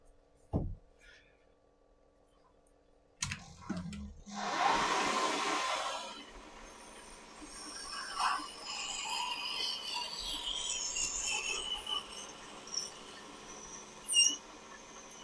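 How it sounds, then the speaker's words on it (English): A drill boring out the middle of a cap on a lathe-style setup, starting after a few clicks with a rising whine and grinding, then continuing with a high squeal and fluctuating cutting noise. "And now we drill out the middle."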